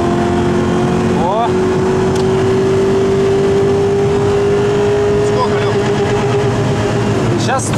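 A car accelerates hard to overtake at high speed, a loud in-cabin engine drone rising steadily in pitch under wind and road noise, with occupants talking briefly.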